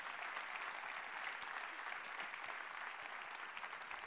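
An audience at a stand-up comedy show in Córdoba claps steadily and fairly loudly throughout, a dense sustained applause without pauses.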